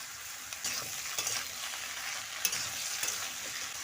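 Onions and washed vegetables for a flat bean and potato curry sizzle steadily in a pan, with a constant hiss and a few faint stirring scrapes.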